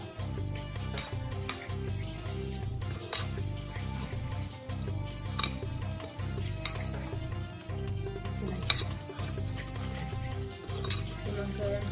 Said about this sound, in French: vous remuez, vous touillez